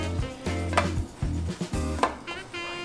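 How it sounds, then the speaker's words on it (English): Butter sizzling on a hot griddle while Korean street toast is cooked, a steady close crackle under repeated clinks and scrapes of utensils and cookware, with no talking. "Let's butter up the griddle here and get our toast going."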